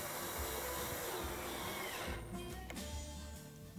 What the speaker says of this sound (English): all I got to do is just drive some screws in